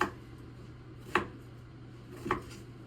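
Guava being chopped with a knife on a board, three sharp isolated chops spaced about a second apart over a low steady hum, no voices.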